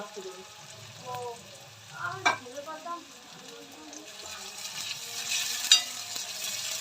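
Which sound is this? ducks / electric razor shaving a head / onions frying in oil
onions frying in oil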